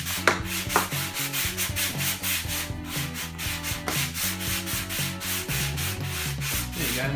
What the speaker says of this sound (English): I'm gonna now sand the piece of wood.